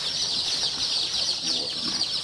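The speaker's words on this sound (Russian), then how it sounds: "Вот цыпленочек появился черной минорки." Black Minorca chicken chick peeping continuously at close range, a steady high-pitched cheeping that runs through the whole moment with faint soft rustling beneath.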